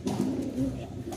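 Pigeons coo steadily nearby, a male calling to a female with low, throaty rolling notes in a continuous murmur.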